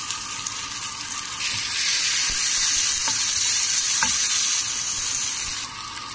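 Curry leaves and green chillies fry in hot oil in a pan for fish curry, a loud, steady sizzle with faint stirring scrapes and no talking.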